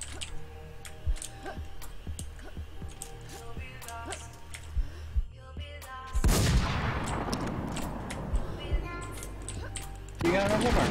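Sniper rifle gunfire from an AMR2 in the shooter game NewZ: sharp reports punctuate a busy mix of game clicks and effects, with a loud burst of blasts and rumble partway through.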